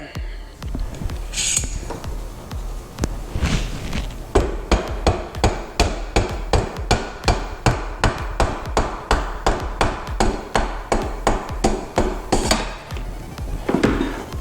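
A hammer taps out the key on a go-kart rear axle, loud metallic strikes close up, first a few scattered hits, then a rapid steady run of blows at about two per second.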